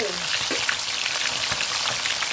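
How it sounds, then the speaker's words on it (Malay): Chicken pieces fry in a pan of oil for soto ayam, a close, continuous crackling sizzle dotted with small pops and a few low thuds, with no voices over it. "kawan kita goreng ayam kita ini"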